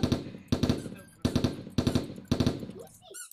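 M16 rifle fire in the cheap shooter game Bean Battles, five loud rapid bursts of automatic gunfire in quick succession, close and punchy, with a short burst of game effects at the end.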